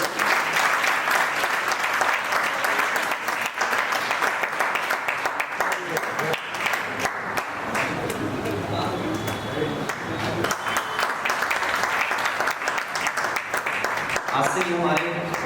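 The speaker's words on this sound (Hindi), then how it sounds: "ताली बजाना आपके लिए कर रहा हूं।" An audience in a classroom or hall claps on request, a dense, sustained burst of applause that carries on for the whole stretch, with voices mixed in beneath it.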